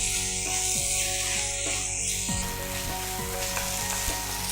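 Loud, steady frying sizzle from stir-fried mushrooms in a pan as a spoonful of cornflour slurry goes in, with repeated scraping stirs and a brief surge of hissing partway through.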